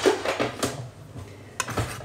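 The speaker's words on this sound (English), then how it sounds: "Let's put a knife down the edge." A knife is run around the edge of a Christmas cake tin to loosen the cake, giving soft metallic scrapes and a few light taps, close and fairly quiet, with no talking over it.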